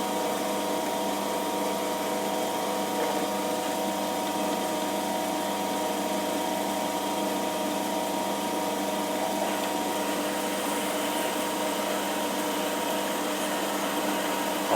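A metal spacer for a 20-tonne press wheel being drilled on a metal lathe, a steady continuous machining whine with broadband motor noise held at an even loudness throughout, no talking.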